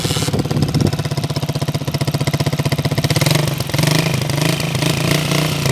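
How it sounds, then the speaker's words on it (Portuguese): A carbureted Honda CG 99 motorcycle runs up close with a loud, rhythmic single-cylinder exhaust thump that pulses fast and even, then rises into a rougher, higher rev in the later seconds. "O barulho tá concentrado mais é só na boca do escapamento, certo?"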